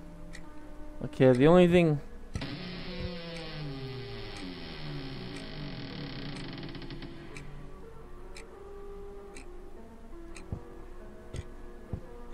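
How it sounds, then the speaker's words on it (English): Faint, regular ticking from a clock in a creepy horror video game, steady soft ticks running under a voice, with a brief tonal swell near the start. "There's a ticking noise."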